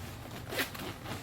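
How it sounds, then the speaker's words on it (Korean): A quick, faint rasp of a zipper sliding open on a US Marine Gore-Tex sleeping bag cover, a single short pull heard alone. "해병대 것은 지퍼가 양쪽으로 돼 있어요."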